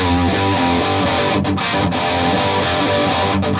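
Electric guitar through the lead channel of a Hughes & Kettner TubeMeister 36 tube amp with gain around 11 and reverb on, a loud, distorted chordal riff with sustained notes ringing continuously.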